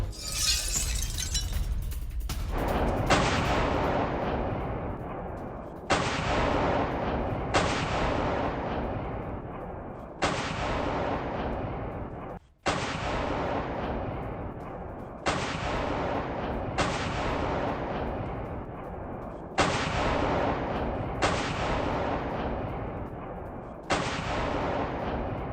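Heavy explosions from a Russian missile attack on the port of Odesa boom one after another, roughly every two to three seconds, each loud blast trailing off before the next.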